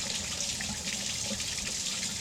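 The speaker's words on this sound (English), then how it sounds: "to kind of let that water run away." Water runs steadily from a tap while drinking glasses are rinsed at a sink, a constant close hiss and splash with no break and no talk.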